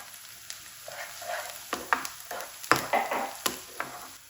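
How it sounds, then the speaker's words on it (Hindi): Okra, ginger and garlic paste sizzle and crackle in hot oil, with occasional stirring scrapes and pops, close up and fairly quiet. "इनको तकरीबन 2 मिनट हम ऐसे ऑयल में फ्राई करेंगे"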